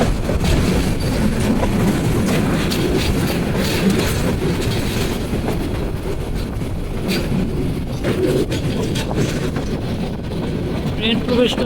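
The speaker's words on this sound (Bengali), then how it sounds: "ক্রসিংয়ে সিলেট থেকে চট্টগ্রাম মুখী পাহাড়িকা এক্সপ্রেস" The Paharika Express, bound from Sylhet to Chittagong, rolls through the Saldanadi station double-line crossing with a continuous loud rumble and rhythmic wheel clatter close by.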